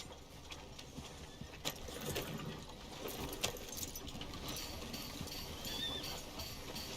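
Horse hooves clopping in Red Dead Redemption 2, irregular steps over a busy ambient bed with faint jingling, moderately close and steady throughout.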